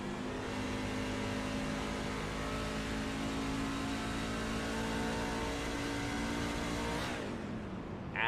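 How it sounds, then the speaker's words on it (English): A race truck engine in a Swift MotorSports truck series race heard from on board, a steady loud drone held under throttle through a corner, then easing off near the end as the revs drop. "Let's listen to this throttle input."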